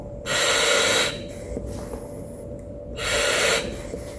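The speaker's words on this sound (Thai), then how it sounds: "ฟังเสียงการทำงานของออกซิเจนนะครับ" A firefighter's breathing apparatus delivers oxygen in two loud hissing bursts as the wearer inhales, separated by a quieter pause with softer breath sounds and a faint steady tone underneath.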